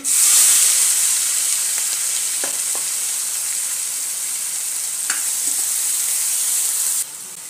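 Onion sizzles as it fries in hot oil in a kadhai with mustard seeds and cumin, a loud continuous hiss with a few small crackles and pops, steady throughout before dropping in level near the end.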